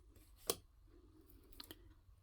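Scissors snip paper flowers off a gel-printed sheet, one crisp cut followed by a couple of softer clicks and snips, close and quiet.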